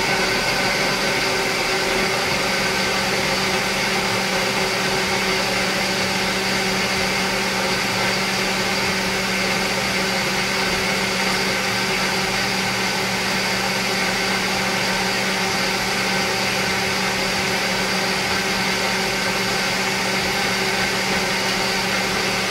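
An electric grinder grinds ingredients for pork picadillo, a loud, steady, unbroken motor whir that stays constant throughout with no talking.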